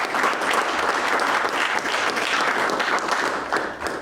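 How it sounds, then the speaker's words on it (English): A dense, steady round of applause fills a school commitment ceremony at Christ School, many hands clapping together at an even volume throughout with no break. "A round of applause."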